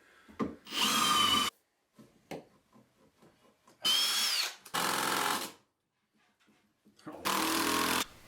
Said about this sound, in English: I screwed the handrail down to each individual log spindle.